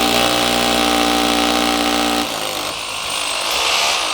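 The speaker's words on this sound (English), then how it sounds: "I've got an SDS Plus rotary hammer" An SDS Plus rotary hammer drill grinds at a steady pitch into brick, loud and close, then the motor cuts off halfway and a rougher, noisier hiss carries on to the end.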